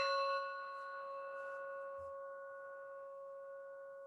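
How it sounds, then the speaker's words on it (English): A single meditation bell struck once at the opening, its clear ringing tone sustaining and slowly fading over several seconds in a quiet room. "I'm going to start counting and then I'll ring the bell."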